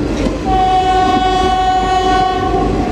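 A Garib Rath Express passenger train runs loud and close through the Mumbai area near Dombivli station, a long steady horn tone held over continuous rumbling wheel and carriage noise.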